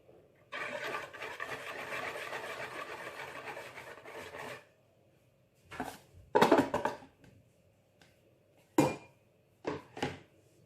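Flour stirred into beignet batter in a bowl, a steady scraping, rasping sound for several seconds followed by short separate scrapes and knocks, close and fairly quiet.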